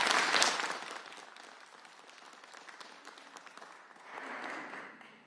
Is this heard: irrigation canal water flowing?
no